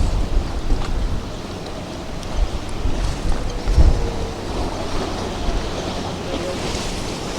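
Waves slapping around a boat heading out through the Lowestoft harbour entrance, a rough, continuous wash mixed with wind buffeting and a low engine-like rumble, with a brief louder surge midway.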